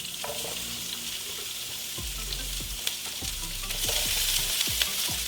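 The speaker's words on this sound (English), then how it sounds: "You give them a stir to kind of coat them in the olive oil." Onions sizzling in olive oil while being stirred in a pan, a constant frying hiss with a series of knocking, scraping utensil strokes that recur every second or so, close by, and the sizzle swells toward the end.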